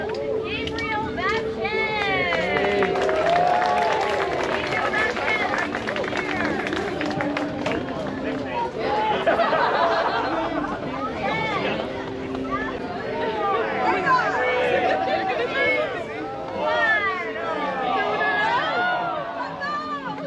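Outdoor festival crowd at a hiking trail gathering as vendors toss free gear, a steady babble of many voices with children and excited chatter swelling in bursts, no single dominant cheer.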